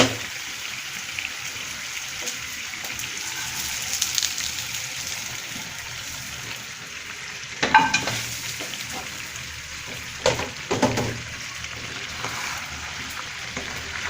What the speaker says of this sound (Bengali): এখন আমি একটু আলুটা মাংসের সাথে মিশিয়ে নিব